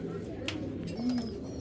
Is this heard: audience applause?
no